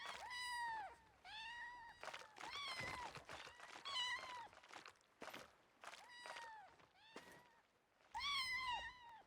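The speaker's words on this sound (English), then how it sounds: "And if that's not good enough for you, they meow." Sea lion creatures in the Black Desert game meowing like cats, a string of short, rising-falling cries, about a dozen in uneven bursts, with soft thuds between them, quiet overall.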